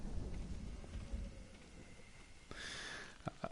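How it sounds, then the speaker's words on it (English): Rain falling steadily in the video game Ghost of Tsushima, with a low distant thunder rumble and a few sharp, brighter patters near the end. "I couldn't have timed that thunderclap any better."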